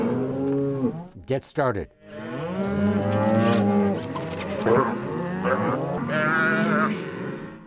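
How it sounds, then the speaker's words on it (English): A herd of cattle bellows and moos loudly and continuously from nearby in a temporary corral during a spring roundup and branding on a Montana ranch, with overlapping calls and a brief voice. "It doesn't take long for this expert crew to gather the herd, push them into a temporary corral"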